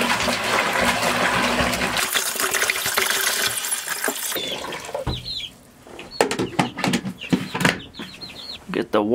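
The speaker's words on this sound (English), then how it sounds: "Get the water running." Water runs from a tap in a chick brooder setup, a loud steady rush for a few seconds that then gives way to chicks peeping, with a voice talking.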